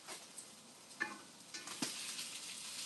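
Sausages searing in a pan on a wood stove, a quiet steady sizzle with a few soft pops and utensil clicks.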